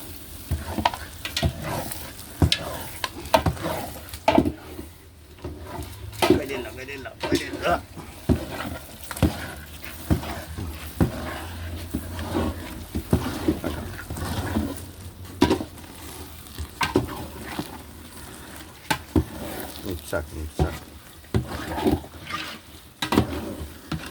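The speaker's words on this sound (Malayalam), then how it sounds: "നല്ല വരിക്കച്ചക്ക കൊണ്ട് അലുവ വരികയാണ്" Thick jackfruit halwa made from varikka jackfruit being stirred in a pan, with repeated scraping and sticky bubbling sizzle in uneven bursts while a voice talks throughout.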